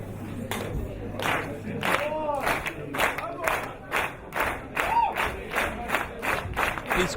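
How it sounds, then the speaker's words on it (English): Wrestling crowd at a four-person tag match applauding, with rhythmic bursts of clapping and crowd noise swelling and falling in waves, fairly close and lively, with scattered shouts mixed in. "This crowd are stunned, I think, by what they're seeing here as they try and applaud all 4 competitors to their feet."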